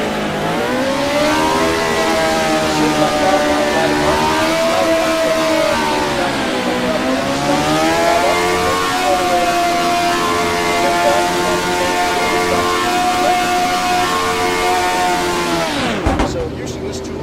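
A sim racing video game car engine revs as the throttle is pressed, its tone climbing, dipping and climbing again in long sweeps before dropping abruptly near the end.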